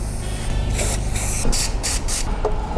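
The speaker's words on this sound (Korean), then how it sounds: "저는 실리콘 스프레이를 좀 뿌려줄 거예요" Silicone spray hisses onto a suspension bushing of a used Hyundai Grandeur in about five short, close bursts in quick succession.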